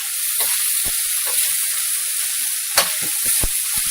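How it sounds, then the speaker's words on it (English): Onions frying in a pan give a steady close sizzle and hiss throughout, with a few faint clinks and stirring taps scattered through it. "So just trying to get these onions cooked a little."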